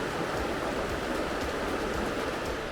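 Laurel Creek, a mountain stream along the Appalachian Trail, flows in a steady, full rush of water, close and unbroken throughout with no voices.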